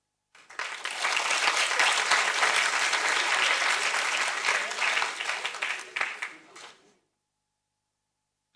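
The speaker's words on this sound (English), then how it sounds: "For those of you who spontaneously applauded" An audience applauds at the announcement of the 2020 Dan David Prize laureates: sustained, dense, steady clapping from a full room, rising quickly, holding for about six seconds, then tapering and stopping.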